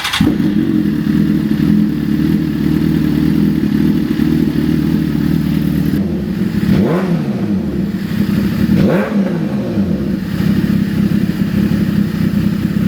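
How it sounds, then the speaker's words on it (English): A 2011 Suzuki GSX-R1000 sportbike running on E85 fuel idles loudly and steadily up close, with two brief throttle blips rising and falling partway through, no talking. "Daryl's gonna go ahead and start the bike."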